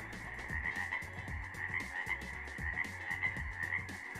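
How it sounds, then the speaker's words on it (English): Frogs croaking at night near a snowy backpacking campsite, a dense, steady chorus of rapid, overlapping croaks pulsing continuously and fairly loud, with no voices. "They croak for 5 or 10 minutes, and then they all just silence all at the same time."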